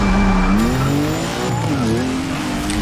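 BMW race car in the Forza Street racing game, its engine droning steadily with rising and falling pitch through gear changes, mixed with tire squeal and skidding, loud and continuous with no talk.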